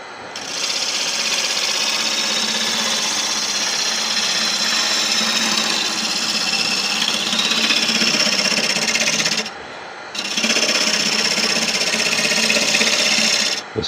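A woodturning gouge cuts a Malaysian acacia vase on a lathe, making a loud, continuous chattering rasp that bounces rhythmically on a hard knot, breaking off briefly about two-thirds through and then resuming.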